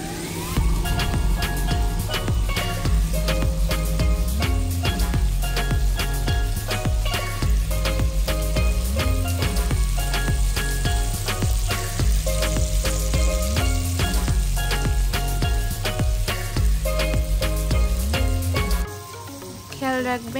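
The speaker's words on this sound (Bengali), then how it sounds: "চিংড়ি মাছগুলো ভাজার জন্য প্রথমে কড়াইয়ে কিছু পরিমাণ তেল দিয়ে" Prawns frying in oil in a wok, with a continuous close sizzle and occasional stirring beneath steady background music that fades near the end.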